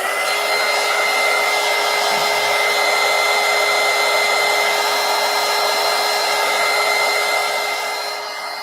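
A hair dryer blows steadily and loudly at close range to dry paint on a mixed media poster book, a constant whooshing roar with a whining hum that holds for the whole stretch and trails off slightly at the very end.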